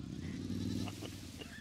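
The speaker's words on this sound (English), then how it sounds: "It sounds like a freaking goat." Goat-like bleat from the llama bike in a video game, a drawn-out wavering bleat over a low engine-like hum, loud and close.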